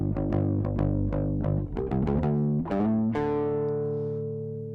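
Distorted electric bass guitar in a rock mix plays a run of evenly spaced plucked notes, then several quicker notes and a final sustained note that rings out and fades, loud and upfront.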